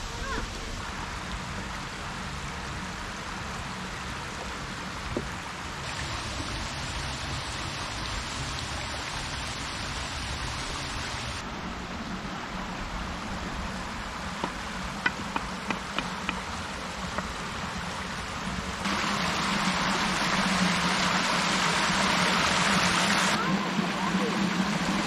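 A creek flowing just past a waterfall makes a steady, broad rushing wash that stays near and even throughout, with a few small splashy ticks and a fuller surge toward the end.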